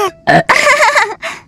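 A cartoon baby named Luka gives a big burp just after dinner, heard as a few short, loud, voiced gulping bursts in quick succession with no talk.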